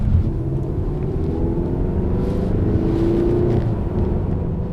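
A Mazda 6 Turbo engine gives a steady, low growl from inside the car. The rumble stays close and fairly loud throughout, with a slight rise in pitch partway through and no talk over it.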